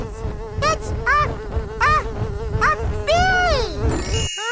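A bee buzzes loudly and steadily during a Sesame Street stage show, its drone repeatedly swooping up and down in pitch before cutting off abruptly.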